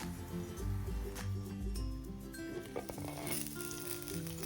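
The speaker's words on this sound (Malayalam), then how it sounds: "ഓയിൽ ഒന്ന് ചൂടായി വരുന്ന സമയം അരിഞ്ഞു വെച്ച മുളക് കുറേശ്ശെയായിട്ട് ഇട്ട് കൊടുക്കാം." Chopped bajji chillies sizzle and fry in hot oil in a pan, a steady, close crackling hiss with occasional light clinks of stirring and no talking.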